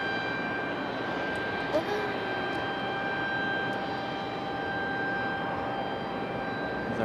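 An Air France Airbus A350 on final approach into Raleigh-Durham from Charles de Gaulle, a steady, moderately distant jet engine hum with a high whine, with a voice speaking over it.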